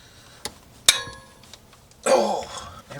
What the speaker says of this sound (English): See if this little ratchet will have what it takes.